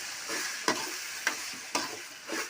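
Rock salt is stirred into a sizzling drumstick and prawn curry in a pan, with four distinct scraping strokes of the spoon over a steady soft frying hiss.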